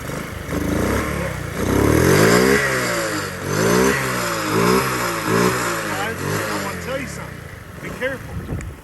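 A CT70 clone pit bike engine revs hard several times in close succession, rising and falling with a buzzy small-engine rasp. The revving is loud and nearby, and a voice speaks briefly toward the end.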